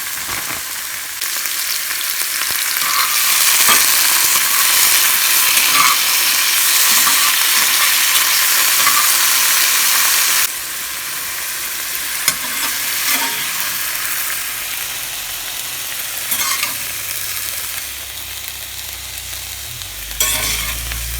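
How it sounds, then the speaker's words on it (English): Frozen vegetables fry and sizzle in a pan for about twenty seconds, a steady loud hiss with stirring scrapes, easing a little partway through. "I'm frying up these frozen veggies from Karebear for the pasta."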